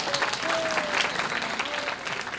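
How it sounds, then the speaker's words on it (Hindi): Crowd at a devotional jagran gives hearty applause for the saints, a continuous dense clapping wash with faint background singing or tones threaded through it. "एक बार संतों के नाम की जोरदार तालियां लगाएं आप।"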